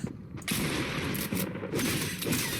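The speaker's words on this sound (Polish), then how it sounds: "teraz ktoś tutaj strzela" Gunfire in Fortnite, a dense, continuous rattle of distant shots forming a rough roar after a brief opening pop, with no one speaking over it.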